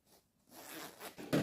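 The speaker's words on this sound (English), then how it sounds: "And this is my zipper." Zipper on a sewn gown is pulled in a short scraping run that builds over about a second and ends in a sharp zip close to the microphone, with no voices.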